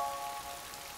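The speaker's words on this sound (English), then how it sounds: "Oh, it's raining!" Steady rain falls on a surface in a cartoon scene, a continuous soft hiss with a faint tonal hum at the start and no voices.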